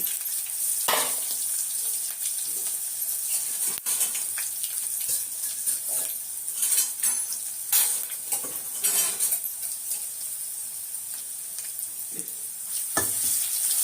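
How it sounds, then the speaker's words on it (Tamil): Mustard seeds crackle and splutter in hot oil with dried red chillies and garlic, a continuous sizzle with sharp popping bursts and occasional clinks of a spoon against the pan. "இந்த கடுகு பொரிஞ்ச உடனே இதை போடணும். நல்லா படன்னு பொரியட்டும்."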